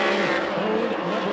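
ASCS SouthWest sprint cars race through turns three and four at Arizona Speedway, a loud, continuous engine roar holding steady at close range with a slight rising and falling pitch as the cars sweep around the corner.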